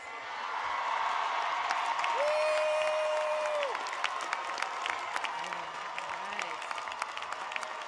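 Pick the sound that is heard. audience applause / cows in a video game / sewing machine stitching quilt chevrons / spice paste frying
audience applause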